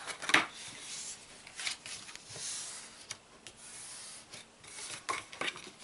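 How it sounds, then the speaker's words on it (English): A paper treat box is creased and folded along its score lines, giving soft, quiet rustles and brushing scrapes in short, uneven bursts, heard up close with no voices. "fold on all of your score lines again"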